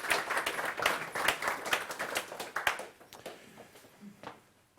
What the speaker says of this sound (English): please give me an applause